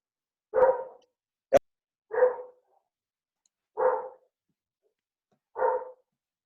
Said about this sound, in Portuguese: Tem alguém que está com um cachorro latindo